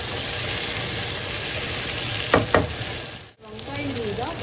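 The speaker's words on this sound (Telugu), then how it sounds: "చూడండి ఎంత బాగా వేగిపోయాయో, ఇట్లానే వేగాలి వంకాయ రైస్కి." Eggplants sizzle steadily in an open pan for vangi rice, a dense, constant frying hiss with a couple of brief stirring scrapes partway through and a short dip near the end, no voices.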